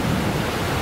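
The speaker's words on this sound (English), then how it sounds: "the rapids running over that orange rock" River rapids run over rocks in Green River Gorge, a steady broadband rushing wash that fills the short moment, loud and close with no talking.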